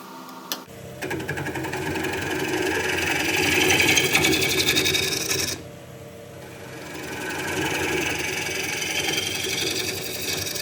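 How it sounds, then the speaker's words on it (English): Wood lathe rough turning the outside of a bowl, a gouge making a peeling cut: a steady, near whirring and rasping hum that swells, dips suddenly around midway, then builds again, with no talking. "Left hand on the lathe is feeling for vibration."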